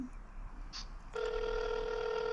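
A smart watch places a phone call, and steady ringback-style tones start about halfway through and hold at moderate level against a quiet background.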